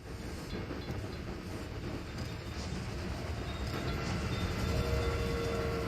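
A mixed train in the video game Railway Empire rolls along with a steady, broad rumble and faint clatter that swells slightly louder toward the end, with no voices.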